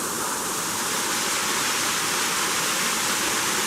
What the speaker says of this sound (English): if you look closely, there's a little waterfall over here